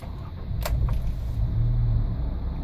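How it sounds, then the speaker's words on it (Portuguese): A car engine starts during a fix for an unstable, racing idle: a short whir of the starter near the start, then a steady low engine hum that settles in close and continuous. "Vamos ligar o carro."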